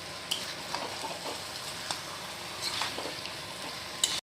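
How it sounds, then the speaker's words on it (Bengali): Meat is stirred in a pan with biryani masala and garam masala, giving a soft, steady sizzle with scattered scraping and clinking taps of a spoon. It is fairly faint and close, with no talk. "এখন এই 2টা মশলা আমরা ভালো করে মাংসের সাথে মিশিয়ে নেব"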